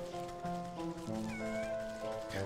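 A cat meows in the video game Wytchwood, a single drawn-out, wavering meow close and clear, with no talking.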